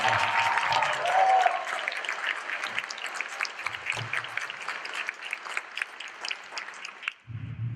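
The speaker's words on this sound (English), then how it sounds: "Let's give him a great round of applause." A New York county welcome ceremony for a visiting spiritual guest fills with a steady, dense round of audience applause lasting several seconds, then stops abruptly near the end as a low voice comes back in.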